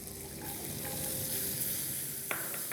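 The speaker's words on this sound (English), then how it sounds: "And just need to saute this till it goes translucent." Onion sautéing in butter in a pan makes a soft, steady sizzle at close range, with a faint stirring movement and one small clink near the end; nobody speaks.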